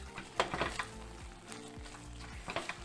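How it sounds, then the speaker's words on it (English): A spoon stirs lime rice in a pot after fresh lime juice is squeezed in, giving a few soft scraping, clinking strokes over a low steady background hum with no talking. "and then we're gonna stir one more time."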